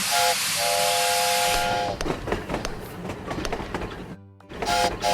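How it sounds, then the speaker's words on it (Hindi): Steam locomotive from a children's video game working, with a loud steady steam hiss, a sustained whistle tone at the start and end, and rhythmic chuffing in between, briefly cutting to silence near the end. "चलिए लोकोमोटिव का काम देखें।"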